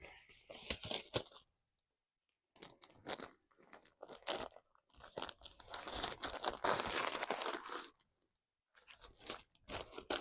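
Paper-faced fiberglass insulation is pulled out and handled, giving loud, close crinkling and crunchy rustling in several bursts with silent pauses between them.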